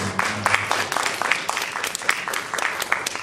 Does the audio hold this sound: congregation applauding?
yes